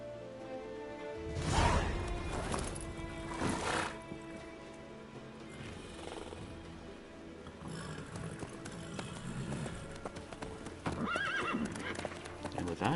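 Horse hooves clip-clop in The Witcher 3 video game, with loud neighs and whinnies rising over a busy game soundscape of music and ambience, steady hoofbeats running throughout.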